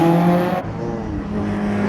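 Lotus Emira safety car on a race track, a loud car engine note that drops sharply as it shifts or passes, then settles into a lower steady drone, with no talking.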